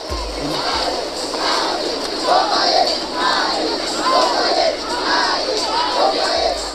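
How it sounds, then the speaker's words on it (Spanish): A large street crowd in Kinshasa chants "Ali Boumbaye" in a steady, repeating rhythm, the massed voices rising and falling in regular waves, loud and continuous throughout. "Resuenan en las calles de Kinsaya el grito Ali Boumbaye, Ali Boumbaye."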